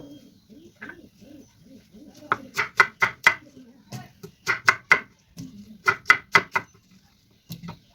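A knife cuts green jackfruit in quick clusters of three or four crisp strokes, separated by short pauses, loud and close.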